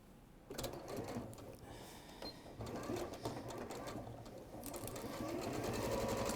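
Domestic sewing machine stitching fabric down the sides and across the bottom of a piece, fast rattling stitch bursts that start and stop in short runs, heard close and fairly quiet.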